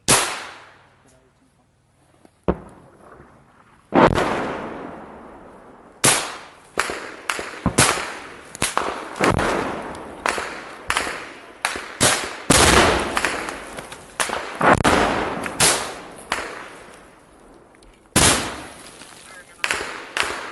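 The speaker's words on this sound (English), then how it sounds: "takes out another grenade to throw at Russian positions" Grenade blasts in a frontline trench battle against Russian positions, a loud sharp explosion followed by a dense run of cracking bangs and gunfire-like reports in quick irregular bursts, with voices shouting nearby.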